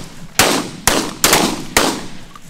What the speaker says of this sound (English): Shoot the wood ducks right there, in front.